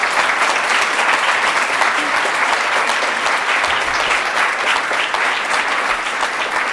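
An audience claps together in a sustained, dense round of applause at the close of a literary interview event, steady and loud from start to finish.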